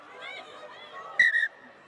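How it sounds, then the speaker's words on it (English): Two short shrill blasts of a referee's whistle at a Premiership Women's Rugby match, Saracens against Leicester Tigers, loud and clear over a low murmur of crowd chatter. "Now that double blast on the whistle is never good news."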